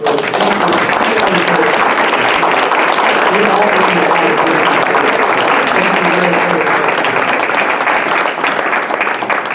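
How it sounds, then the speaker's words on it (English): Steady, dense audience applause fills the room at a car club gathering, continuous clapping from a crowd throughout with no pauses. "Let's give them a round of applause"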